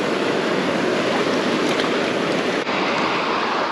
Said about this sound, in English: So this is just a little side channel with very little water in it